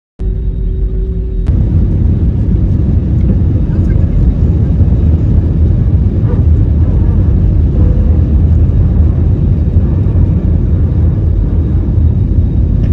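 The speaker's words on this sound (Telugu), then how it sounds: "ఈ ఫ్లైట్ టేక్ ఆఫ్ ఎలా అవుతుందో ఇప్పుడైతే ఈ వీడియోలో చూసేయండి." Airplane taking off, heard from inside the cabin on a flight from Australia: a steady, loud broadband engine roar that surges up after a quieter first second and then holds without a break.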